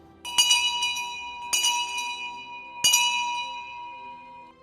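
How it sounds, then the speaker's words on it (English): A church bell tolls three times at a slow, steady pace, each bright metallic strike ringing out and fading into a long, shimmering decay. "the bells of St. Sepulchre would toll"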